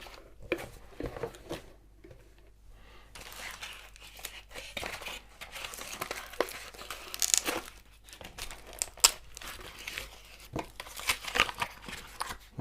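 A Dymo LetraTag 200B Bluetooth labeller being taken out of its cardboard box, close, fairly quiet crinkling and rustling of packaging in irregular bursts, with occasional taps and tearing scrapes.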